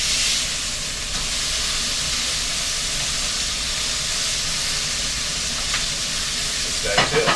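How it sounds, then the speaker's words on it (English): Burgers fry in a pan with a steady, loud sizzle and hiss throughout, closing with a few clattering kitchen knocks near the end. "Alrighty, the burgers are fried up."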